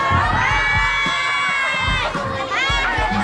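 A crowd of schoolgirls cheers and shouts at an annual school sports day, dense high-pitched screaming and yelling from many voices close by, continuous and loud throughout.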